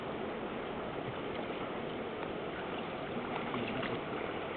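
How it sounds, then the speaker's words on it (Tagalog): A water tap runs at full flow, giving a steady, fairly close rushing and splashing stream that continues evenly throughout, with no voices standing out. "Ay, hinaan mo yung gripo."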